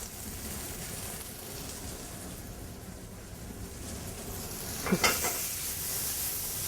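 Pine nuts caramelizing in a pan give a steady, soft sizzle with occasional stirring scrapes, and a brief sharper clatter of stirring partway through.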